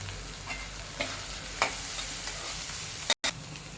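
Grated carrot is stir-fried in a pan for fried rice, a quiet, even sizzle with a few soft scrapes and a brief dropout near the end.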